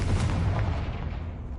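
Confringo explosive spell blast in the Hogwarts Legacy video game, a single loud booming burst at onset that decays into a fading rumble.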